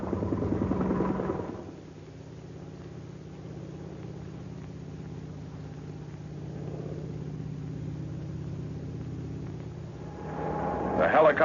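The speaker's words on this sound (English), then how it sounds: "The helicopters can hover close to the ground, survey and double-check any questionable areas." A military helicopter hovers low over the ground during a 1952 nuclear test operation, its engine holding a steady droning hum with a narrator's voice heard over it.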